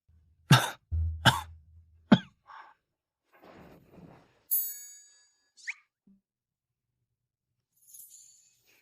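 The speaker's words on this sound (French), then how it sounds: "tousse-t-il sans arrêt" A man coughs repeatedly after falling into water, several sharp harsh bursts up close, then a quieter breathy stretch, a bright ringing clink and a faint late tinkle.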